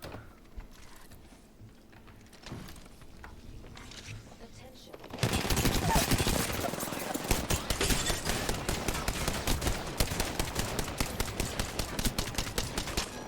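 Rampage light machine gun fire in Apex Legends: rapid, rhythmic bursts of loud automatic shots that start abruptly partway through and continue steadily, after quieter game ambience with scattered impacts.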